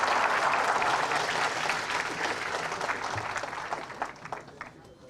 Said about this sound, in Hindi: ताली में तो गर्माते नहीं आप।